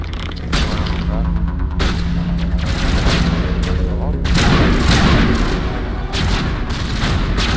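Loud explosions and gunfire from a Mass Effect battle, with a grenade blast thundering through sustained, dense combat noise that lasts the whole stretch, booming low and steady with brief dips between bursts.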